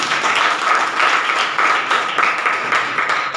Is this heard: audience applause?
yes